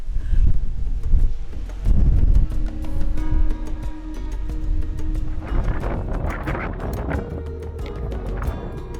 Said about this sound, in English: we're also so exposed to the wind here